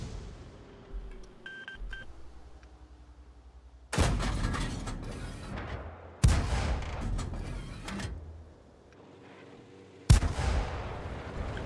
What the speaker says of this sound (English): I'm gonna shoot to see if I'm spotted.